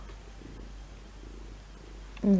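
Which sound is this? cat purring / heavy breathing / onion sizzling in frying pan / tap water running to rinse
cat purring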